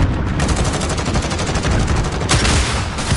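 Rapid, sustained automatic gunfire in a shooter video game, loud and close, rattling continuously with a sharper burst near the end and no talking.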